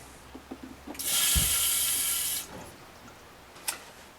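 RV toilet flushing to purge air from the water lines, a few mechanical clicks then a loud hissing rush of water for over a second, stopping with a clunk and a later faint click.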